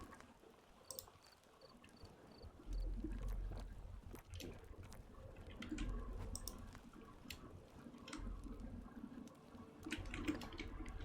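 Water being gathered in the survival game Fountain of Youth, with soft repeated sloshing and splashing at low volume and occasional small clicks over a quiet ambient bed.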